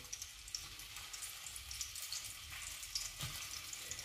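Food sizzles steadily in a hot pan while keto menemen is cooked, a continuous close frying hiss with small pops and occasional utensil movement.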